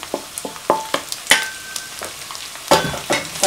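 Soy meat frying in a pan after onion and garlic, with scattered scraping and clinking stir strokes over a soft sizzle, close up and without talk.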